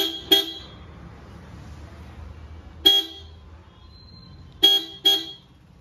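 A Maruti Suzuki Swift Dzire's horn, linked to its central locking, gives short, sharp beeps: one quick double toot, a single toot, then another double toot, loud and close over a faint engine hum.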